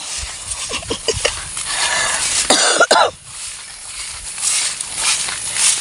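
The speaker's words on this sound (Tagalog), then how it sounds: "Ay, nga ubo ni." A person with a hoarse throat coughing outdoors, several short harsh coughs in a quick cluster followed by a louder throaty burst, over a background of ambient outdoor noise.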